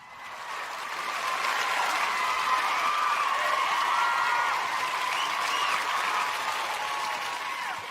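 A studio audience at a Thanksgiving show breaks into steady applause and light cheering, building quickly and holding evenly at moderate volume before easing slightly at the end.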